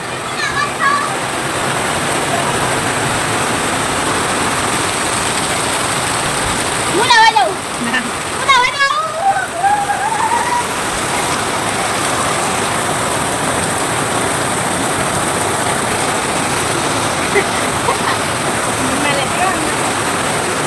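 Steady, dense rain hiss fills the whole stretch, with brief bursts of voices and movement in the middle before the downpour continues on its own.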